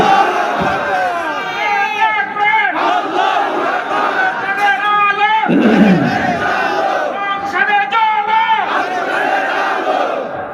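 A large crowd at a religious rally roars out the takbir together in a loud, sustained chant, voices swelling and overlapping for several seconds with repeated surges.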